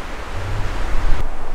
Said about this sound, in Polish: Straszliwie wieje, schowałam się za krzaczkiem